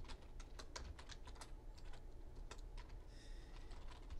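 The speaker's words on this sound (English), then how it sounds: "So I'm going to type these in." Keys clatter steadily on a computer keyboard during data entry for a mail merge, an irregular run of close, crisp clicks with brief pauses and no voice over it.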